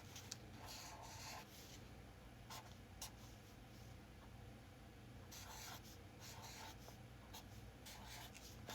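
Pencil drawing an ice-crystal snowflake on paper: close, steady scratching and rubbing strokes in short bursts with brief pauses, set against faint low background hum.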